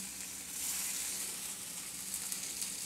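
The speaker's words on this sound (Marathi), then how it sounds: "थोडंसं एकदम तेलावर तुम्ही भाजून घेतलं तरी चालतील।" Cabbage vadi pieces shallow-fry in about a spoonful of hot oil in a pan, giving a steady, close, hissing sizzle that continues without talk.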